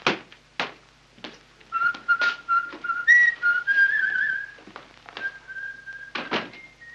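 A person whistles a cheerful tune in a 1939 film scene, clear melodic phrases interspersed with a few thumps and footstep-like knocks, close and alone without talk.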